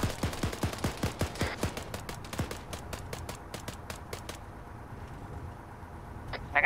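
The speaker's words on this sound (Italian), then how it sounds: "Cazzo, ci stanno sparando!" Gunfire in the military video game Arma 3: rapid, loud bursts of shots in a quick rhythm for the first few seconds, then sparser scattered single cracks fading toward a quieter stretch.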